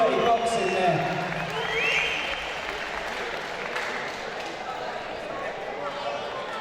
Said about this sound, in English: Please give them a big, big round of applause.